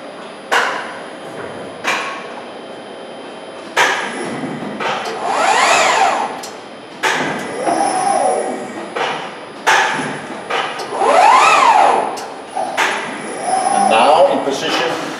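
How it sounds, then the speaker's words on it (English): A CIDAN PRO Z sheet metal folder's folding beam moving into position, giving mechanical thumps and clanks followed by rising and falling whirring motor sweeps, repeated several times. "Now the folding beam moving into the position to do the first down folding."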